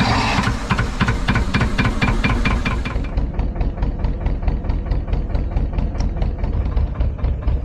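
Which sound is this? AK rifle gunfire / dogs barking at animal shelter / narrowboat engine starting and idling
narrowboat engine starting and idling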